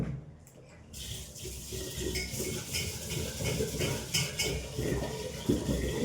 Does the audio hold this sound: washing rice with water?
yes